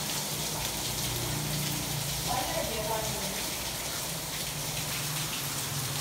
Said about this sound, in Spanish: Lloviendo muchísimo.